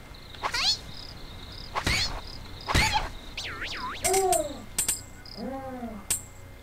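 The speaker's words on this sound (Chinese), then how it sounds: "那个林克游戏里面的那个死怪物死掉声音" Short chiptune-like electronic effects sweep and chirp in the fan-made game Miko Kagami Adventure, a burst of bright synthetic swoops and falling tones marking a monster's death, with a voice cutting in briefly.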